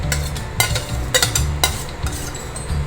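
Broad beans sauté in oil in a pan, a close sizzle broken by sharp clinks and scrapes of a ladle stirring against metal in quick bursts.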